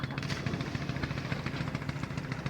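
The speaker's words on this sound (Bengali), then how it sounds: "মাছ ধরার নৌকা, অনেক মাছ ধরার নৌকা রয়েছে।" Engines of fishing boats on a river make a steady, mid-pitched, throbbing drone with a faint rhythmic knock, moderately loud and continuous throughout.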